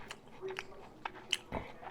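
Quiet close-up chewing of a crunchy jalapeno bacon-wrapped armadillo egg with sausage and Velveeta cheese from a smoker, a few soft irregular bites and crunches over two seconds.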